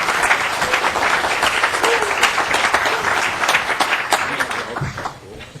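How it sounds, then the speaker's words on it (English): Applause fills a state House capital investment committee hearing room, with steady, dense clapping from many hands held at an even level before it fades at the end. "I just think we need to give them a round of applause"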